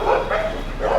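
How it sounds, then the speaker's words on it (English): Dogs on a night street in Jodhpur, India bark loudly and close in a quick, rough burst, with no voices. "Dog going crazy."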